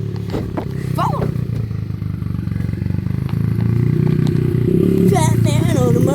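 A small dirt bike's engine runs steadily with a buzzing, rattling idle that swells louder toward the end, while voices talk and call out over it.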